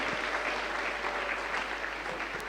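A church congregation applauds steadily, a dense, continuous clatter of many hands filling the room at moderate loudness without a break.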